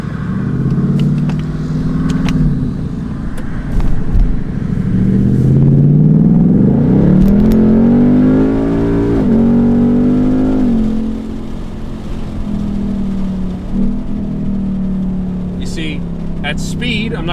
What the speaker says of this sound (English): that downshift was just fine